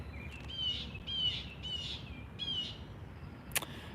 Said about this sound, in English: effing birds